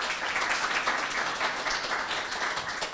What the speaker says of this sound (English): A huge round of applause because we wouldn't be here if it wasn't for them.